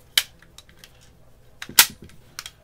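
Metallic clicks and snaps from an AR-15 rifle as the rear pin is popped and the bolt swapped out, a sharp click near the start, a louder cluster of clacks in the middle and a final snap, close and dry with no talk.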